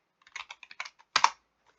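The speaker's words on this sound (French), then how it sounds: "Donc je tape table en anglais." Someone types the word "table" on a computer keyboard for a SCP roleplay game: a quick, close run of light key clicks, then a louder final cluster of strikes, with no talking.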